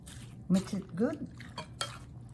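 A creamy fruit salad with sour cream is stirred in a bowl, giving a few soft, wet scraping and clinking strokes, quiet and close, with a voice speaking briefly over them.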